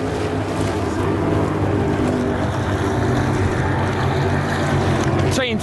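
Loud offshore racing powerboat engines on Lake Macquarie, Australia, drone continuously with wind buffeting the microphone, and a voice speaks briefly beneath the roar.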